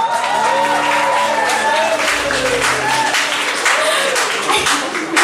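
A concert crowd applauds a singer with sustained, dense clapping, fairly close and steady throughout, while a host speaks over it.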